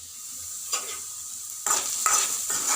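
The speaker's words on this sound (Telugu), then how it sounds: "మధ్య మధ్యలో కలుపుకుంటూ వేయించుకుంటూ ఉండండి" Vegetable pieces for a veg cutlet sizzle softly in a pan, interrupted by a few short bursts of stirring and scraping; the sound is close and fairly quiet, with no voices.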